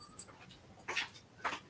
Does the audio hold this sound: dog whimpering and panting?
yes